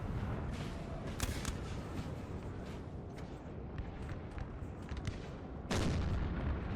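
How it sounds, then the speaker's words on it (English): Artillery fire in the Napoleon Total War battle game, with repeated booming cannon blasts over a continuous rumble of distant gunfire and battle noise, one loud blast near the start and another heavy burst toward the end. "Oh wow, artillery from Russia."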